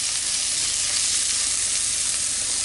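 Onion and garlic fry in a pan in a steady, dense sizzle that stays loud and even throughout, with no voices.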